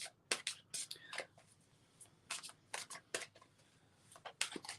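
Tarot cards shuffled by hand in a series of quick, crisp riffling bursts, close and fairly quiet, with soft voices murmuring between them.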